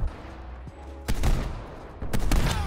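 Two sharp, heavy gunshots from a hand cannon in a first-person shooter ring out about a second apart, loud and close, each followed by a brief rattle of further game noise.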